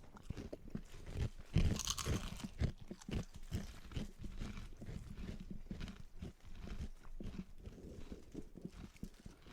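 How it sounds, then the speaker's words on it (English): Flaky puff pastry buñuelos chewed near the microphone, loud irregular crunches and crackles in quick bursts, the heaviest early on, then softer chomping continuing throughout. "I was not expecting that much crunch. It was flaky. It was super crunchy."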